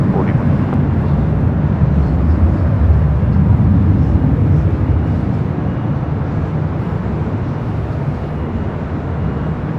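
A jet airliner landing on runway 24 right at Los Angeles International Airport: a loud, steady broadband engine roar with deep low rumble, sustained and slowly easing over the span, with no other sounds standing out.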